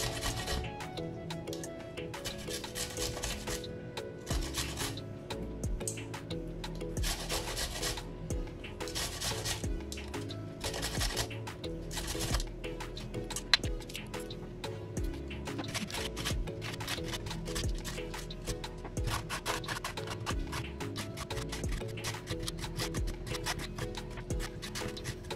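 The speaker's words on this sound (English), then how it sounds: "So I'm just going to continue with the grating." Green mango being grated by hand for a caramelized mango dish, a continuous run of rough rasping strokes heard close up over steady background music.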